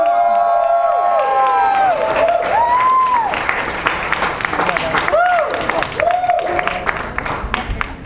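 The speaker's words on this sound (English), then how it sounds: "You guys get to cheer again one more time." Crowd at Lion Fight 16 weigh-ins cheering and applauding loudly, a sustained roar of claps with whoops and whistles rising over it throughout.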